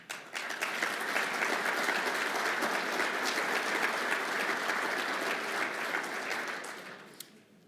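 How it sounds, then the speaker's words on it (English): An audience at a manufacturing conference program bursts into sustained applause, full and even for several seconds before tapering off at the end. "I'm not sure if they're clapping for them or for me stopping talking."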